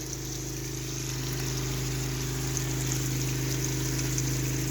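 A pump drives water out of an artesian well during cleaning in Bilohorodka, giving a steady, loud mechanical hum with a constant rushing, gushing flow that runs unbroken throughout.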